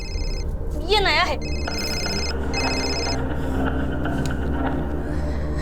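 A mobile phone rings in repeated electronic tone bursts over a steady background hum, while a person speaks briefly.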